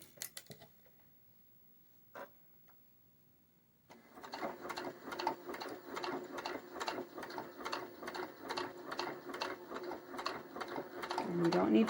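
A sewing machine stitches fabric for coasters in a steady rapid run of needle clatter. It starts after a few seconds of near silence broken by a couple of faint clicks, then grows slightly louder toward the end.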